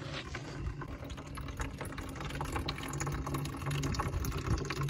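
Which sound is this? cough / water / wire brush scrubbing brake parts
water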